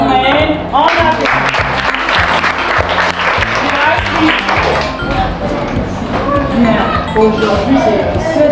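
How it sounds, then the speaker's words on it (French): Applause after an Amen at a school assembly on the first day of the school year at a modern school, dense clapping rising near and loud with music or voices mixed in throughout. "On applaudit."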